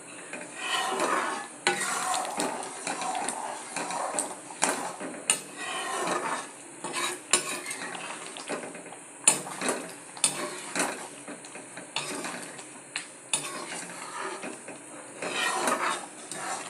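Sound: stirring sauce in a cooking pan

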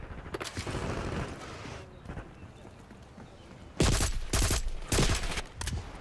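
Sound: gunfire in the video game Call of Duty Black Ops 6

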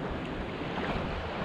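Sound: waves on a beach at St. Barths

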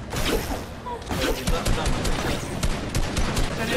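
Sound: gunfire in Fortnite video game

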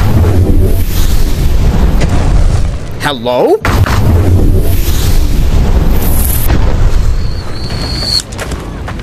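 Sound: fire meteor spell explosion in video game Blade and Sorcery Nomad

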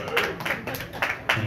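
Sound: audience clapping at open mic

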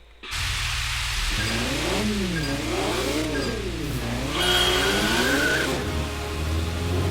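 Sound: car drifting during a replay in the Initial D PS3 video game

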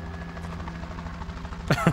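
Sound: helicopter in video game A Quiet Place: The Road Ahead

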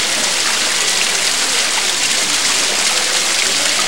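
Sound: small waterfall by the scenic railway

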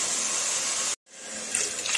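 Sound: water poured from a mug into a pot for cumin rice

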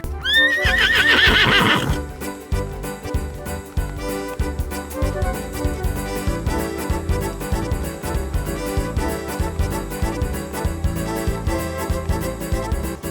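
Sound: horse neighing during an election campaign

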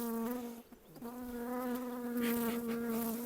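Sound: honeybees buzzing at open hive

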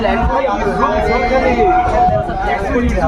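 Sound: crowd chatter at Bandel railway station

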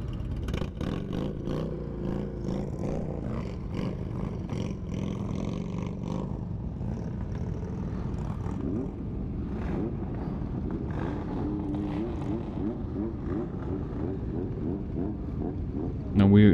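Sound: many Indian motorcycles rumbling in a parking lot

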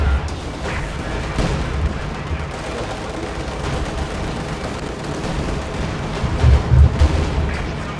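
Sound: explosions from video game airstrike

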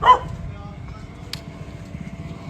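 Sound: dog barking and chasing

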